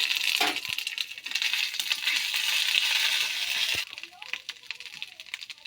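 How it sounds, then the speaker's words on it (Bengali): Ginger frying in hot oil with panch phoron five-spice, a dense, bright sizzle that runs steadily before dropping abruptly to a quieter crackle. "আদাটা একটু ভাজা ভাজা করে নিলাম।"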